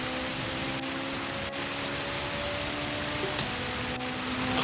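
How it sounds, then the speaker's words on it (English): Heavy rain hisses as a steady, dense wash during a wet-weather race in Gran Turismo 7, with a car engine droning underneath and a shifting tone as the car changes gear, no voices. "It's really raining now."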